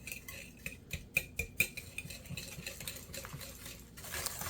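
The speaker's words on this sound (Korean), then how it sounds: "이제 섞어 줄게요" Brownie batter of white sugar and vanilla extract being stirred in a bowl, with soft scraping and clinking of a utensil against the sides, a few sharper taps standing out, close and fairly quiet.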